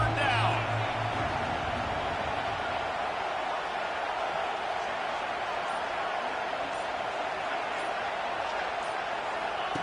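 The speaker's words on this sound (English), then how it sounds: "This Auburn crowd trying to conjure up a little magic here on 3rd down." The Auburn home crowd at a college football stadium in an EA Sports PS5 game roars steadily and continuously at a loud, even level during a third-down play.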